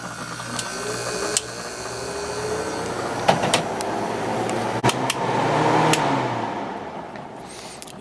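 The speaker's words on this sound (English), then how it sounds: "Compressor's nice and quiet." A quiet air conditioner compressor runs steadily as a low hum with fan-like broadband noise, joined by a few brief clicks and faint mechanical ticks, with no talking.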